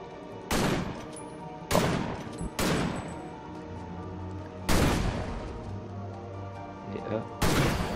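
Rifle shots fired at training dummies in the video game Victor Vran, five loud separate blasts spaced a second or two apart, each with a ringing tail over a low game hum.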